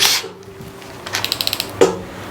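A Makita 40V XGT GPH01 cordless hammer drill fitted with a 7/16 socket gives a short whir followed by a quick run of evenly spaced ratcheting clicks, close and fairly loud, with no voices.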